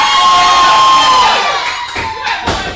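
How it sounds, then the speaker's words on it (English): Crowd at an independent professional wrestling event reacting loudly to the wrestler Brandon Bullock, a dense wash of shouting and jeering voices that swells and then thins into scattered individual yells. "Crowd not too happy with Brandon Bullock."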